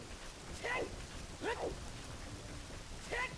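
Steady hiss of rain in Zelda: Ocarina of Time, with thunder in the scene, continuing for a few seconds while brief chirping game tones rise over the wash.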